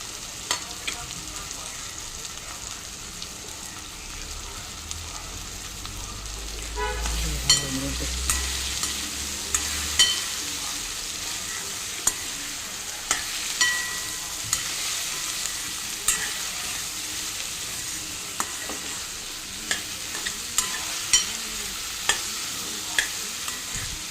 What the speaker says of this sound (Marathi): आता ही भेंडी त्यात मी घालते.